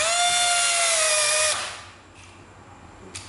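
A National cordless drill, a Japanese domestic-market model, runs in low mode with a steady whining motor tone for about a second and a half, then spins down and stops, leaving faint room noise and a small click near the end.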